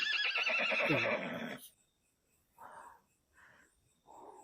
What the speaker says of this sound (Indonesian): Ini suara kuda loh.